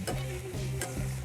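Noodles for char kway teow stirred and frying in a hot wok, a close sizzle with scraping and clacking of the utensil against the pan in a couple of strokes.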